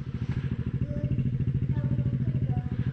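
Steady motorcycle engine idling with a low rhythmic throb, loud and close in the snow, mechanical clatter riding on top.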